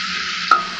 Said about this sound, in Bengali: এগুলারে এভাবে ভালো করে ভাজি করতে হবে।